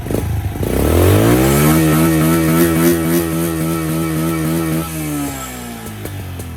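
A motorcycle engine is revved hard in a long blip with the rev limiter set at 7, climbing up in pitch, holding high for a few seconds and then falling back to idle, loud and close, with no talking.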